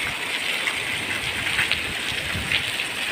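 Heavy rain pouring steadily, a dense close hiss of drops with no letup and no voices.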